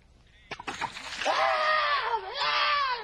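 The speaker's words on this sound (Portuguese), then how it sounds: "Só aplicar água sobre o seu amigo." Water thrown onto a person lands with a sudden splash and splatter, followed by a loud, high-pitched scream or shriek that carries on for a couple of seconds.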